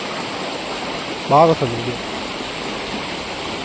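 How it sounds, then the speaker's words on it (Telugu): A swollen stream runs hard near waterfalls after rain, making a constant broadband rush that holds steady throughout, with a brief spoken phrase over it. "వాటర్ ఫ్లో కూడా ఎక్కువగా పోతుంది. సౌండ్ కూడా ఎక్కువ వినిపిస్తుంది"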